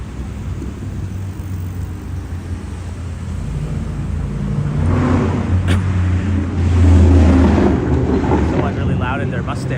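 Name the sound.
loud Ford Mustang car engine nearby on a Toronto street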